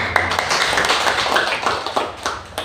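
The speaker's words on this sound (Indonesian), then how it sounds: "Berikan Tuhan tepuk tangan." Congregation clapping at a Sunday church service in Indonesia: a mix of scattered and overlapping hand claps with uneven, sharp individual strikes, moderately loud, without speech over it.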